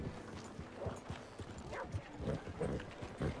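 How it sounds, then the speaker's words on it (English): A white horse's hooves clip-clopping at a walk in the video game Red Dead Redemption 2, a steady, moderately close rhythm of hollow knocks over a quiet ambient background. "Look at that nice, beautiful white horse coming through."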